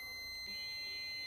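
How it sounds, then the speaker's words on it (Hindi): A multimeter in continuity mode gives a steady high beep while testing a working speaker from a Micromax LED TV, heard close and quiet for about a second. "बीप साउंड आपको सुनाई दे रहा है,"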